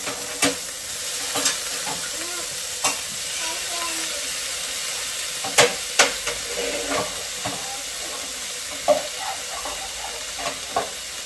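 Green peas frying in a pan, a continuous hissing sizzle with occasional sharp clicks and clatters of a spoon against the pan, close and moderately loud, with faint background voices at times.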